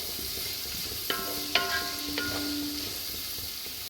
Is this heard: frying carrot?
yes